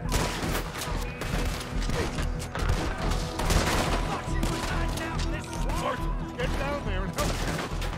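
Springfield rifle shots ring out in a Red Dead Redemption 2 gunfight in Saint Denis, mixed with other gunfire in rapid, dense bursts over busy game noise.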